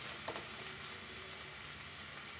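Curry with potato and papaya simmers in a lidded pot, giving a steady low sizzle and bubbling with faint scraping from stirring, close by and without voices.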